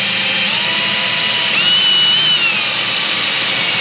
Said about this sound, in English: So I've got my pilot holes drilled there.